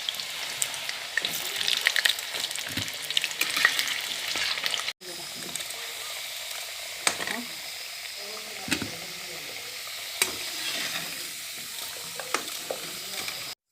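Thinly sliced potatoes fry in a pan for a potol curry, a soft, steady sizzle broken by occasional clinks of a spatula, with a short gap partway through.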